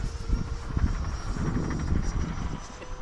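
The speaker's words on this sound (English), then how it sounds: "It's a sport jet. Tracks super nicely, even in this wind that I'm feeling." An E-Flite Viper 90mm ducted-fan RC sport jet flies past outdoors with a sustained rushing whine that swells and fades. Gusty wind noise rumbles over the sound.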